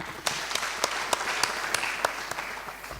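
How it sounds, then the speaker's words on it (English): A school audience at a contest between Loreto Limuru and Alliance Boys High School claps for Alliance High, producing a soft wash of applause punctuated by sharper, regularly spaced individual claps. "Let's clap for them."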